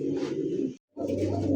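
A pair of red magpie pigeons coo softly at close range, two low throaty phrases separated by a brief silence.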